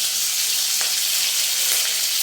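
Curry leaves hit hot oil with sputtering mustard seeds and cumin, setting off a loud, bright, continuous hissing sizzle with a couple of sharp crackles, close up and without voices.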